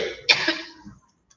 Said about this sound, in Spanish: tengo ganas de toser